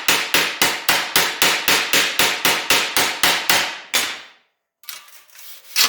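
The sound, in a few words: hammer striking metal to stretch crown panel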